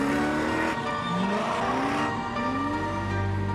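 A car speeds off down a street at night, its engine roaring and tires screeching in rising, sliding tones that stay loud and close across the whole stretch.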